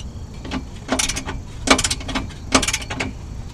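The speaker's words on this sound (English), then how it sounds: "I'm just gonna tighten down this side first and then I'll tighten down the other side." Exhaust clamp being tightened during a Volkswagen Golf R resonator delete, heard as three or four short, close metallic ratcheting bursts with brief pauses between them, over a low background hum and no talk.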